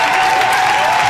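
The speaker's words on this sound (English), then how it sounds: "Ladies, clap it up for Nat." A studio audience at a men-versus-women debate podcast claps briefly, a dense, even burst of applause with cheering voices over it, loud and close.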